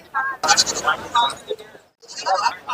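Goats bleat at a Monday-morning goat market, several loud, close, wavering cries in quick bursts with a short pause between, amid the market's bustle.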